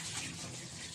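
Water is poured briefly onto a plastic bag during kitchen food prep, a soft continuous splashing trickle, faint and close, lasting about a second.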